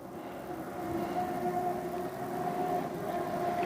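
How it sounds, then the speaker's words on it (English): A motorbike engine passing in the distance at a riverside fishing spot at night, a steady low drone with a faint rising whine, fairly quiet and unbroken. "Sounds like a motorbike."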